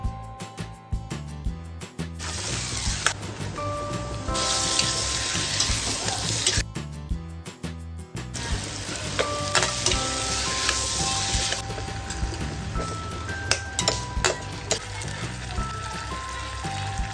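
Whole spices frying in about two spoonfuls of oil for a spicy Maharashtrian prawn dry masala, giving a steady, fairly loud sizzle with stirring, overlaid by faint sustained tones.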